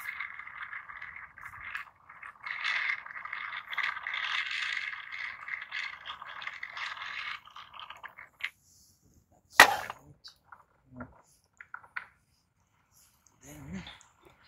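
Spoon scraping and rattling against a pan while stirring tuna curry, a steady stretch of scraping followed by sparse clatters and a sharp knock, with quiet voices in between.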